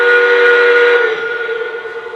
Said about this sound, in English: That whistle confirms that it's taken the command.